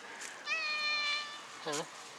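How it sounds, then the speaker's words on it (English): A cat living at the Kyiv Zoo gives two clear, close meows, a long drawn-out one followed by a shorter rising one, against quiet outdoor background. "I wonder why there's so many cats that live in the zoo here."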